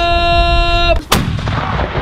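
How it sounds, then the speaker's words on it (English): A restored 75mm World War II cannon of the Old Guard's Presidential Salute Battery fires one sharp, loud blast at Arlington National Cemetery, cutting off a sustained tonal hum and leaving a rumbling echo. "These 75mm guns, which were once used for destruction, now serve a better purpose."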